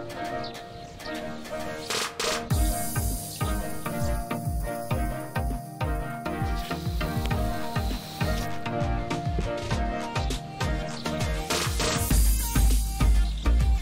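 A water sprayer rinses cleaner off a rubber RV roof with a continuous hissing rush that stays fairly loud throughout and surges slightly in places, with faint tonal hum underneath.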